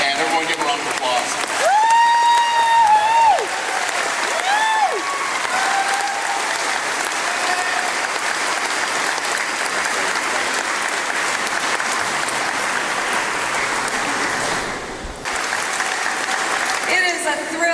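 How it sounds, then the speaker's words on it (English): Large amphitheater crowd at a political summit breaks into long, sustained applause, with loud whoops and cheers early on, then a steady roar of clapping that briefly dips before swelling again. "everyone give a round of applause"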